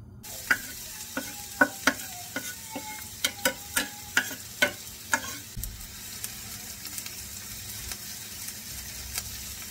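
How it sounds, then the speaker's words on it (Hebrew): Chopped onion and garlic fry in hot oil, a soft continuous sizzle under a rapid series of sharp ticking spatula taps against the pan that fade out halfway, with a low background hum. "מחכה שהשמן יתחמם, ואז אני מוסיף את הבצל והשום"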